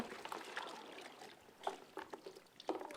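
Water trickles and splashes into a basin set out for washing okra pods, with soft, irregular drips and pours that come quietly and close by with no talking.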